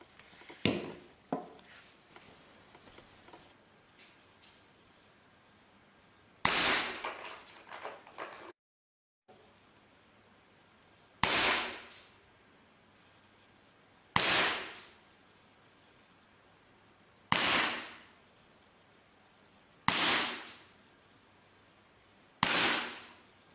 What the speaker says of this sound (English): Let's have a quick look at how the M84 actually shoots.